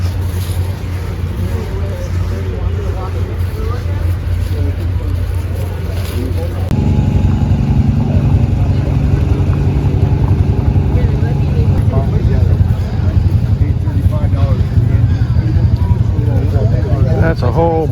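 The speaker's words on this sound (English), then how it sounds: "That's a whole boatload of hit or miss engines." Several hit-and-miss engines run at a fall harvest and sawmill show outdoors, a steady loud low chugging throb that grows fuller partway through, with people talking over it.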